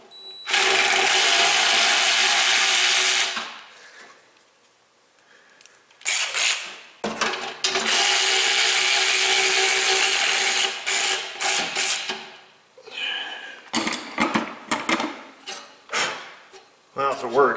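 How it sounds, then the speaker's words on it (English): A socket wrench loosening exhaust studs on a Toyota 4Runner with the 3.4 engine, loud close ratcheting and grinding in long stretches with brief pauses, followed by shorter clicks and scrapes. "Try to get this one to take a bite. Yeah, let me get a short socket."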